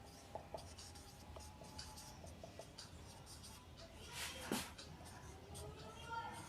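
Pen or pencil writing out a maths solution, with close, quiet, continuous scratching strokes and a few louder scrapes, a faint hum and soft background noise under it.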